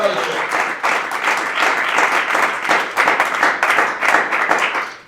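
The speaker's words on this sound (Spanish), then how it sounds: "Fuerte el aplauso." A church congregation applauds loudly and steadily, many hands clapping in a dense sustained burst with slight swells, close and filling the room throughout.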